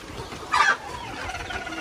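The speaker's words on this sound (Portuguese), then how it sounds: "Aqui tem os franguinhos e frangas em crescimento, né? 12 frangos e 2 franguinhos aí no meio." A single short cluck from a backyard coop holding young chickens and pullets, a brief near call at the midpoint over a faint steady background hum.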